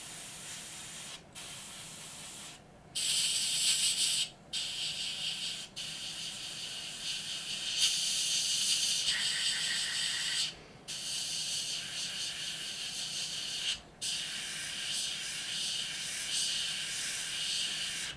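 An airbrush sprays paint onto a Revell Me 262 scale model, giving several separate bursts of loud, steady hiss broken by brief silent gaps as the trigger is released and pressed again.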